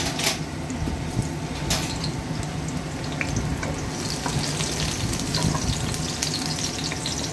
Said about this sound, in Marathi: लसूण टाकलं मी त्याच्यामध्ये. त्याला थोडं गोल्डन होऊन भाजून घ्यायचं आहे.